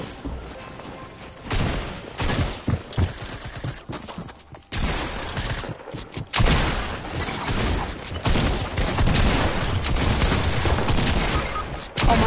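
Gunfire in the video game Fortnite, dense bursts of rapid shots and booming blasts in uneven clusters, loud and close with no talking over them.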